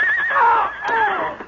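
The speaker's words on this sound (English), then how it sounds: "his horse stumbled and fell." A loud, close horse whinny rising and falling in a single cry, a radio drama sound effect for a horse stumbling and falling on a forest trail.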